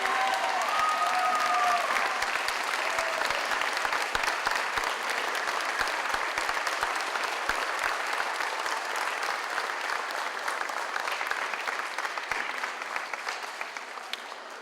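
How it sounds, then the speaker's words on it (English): At a special needs graduation ceremony, a large audience gives the graduates sustained applause, a loud, dense roar of clapping that holds steady for a long stretch and then slowly fades. "please give our graduates a nice round of applause."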